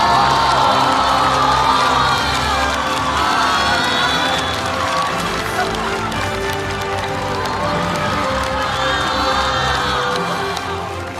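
Loud audience cheering, whooping and applause at a comedy roast awards show, welcoming award presenters onto the stage; a dense, steady roar of crowd voices and shouts sustained throughout.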